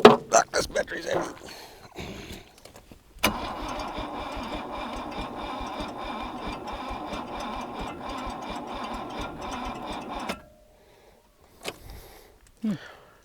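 An abandoned Mercedes-Benz engine cranks on a flat battery, a sustained rhythmic chugging churn of the starter lasting several seconds before cutting out, with brief voices and clatter before and after.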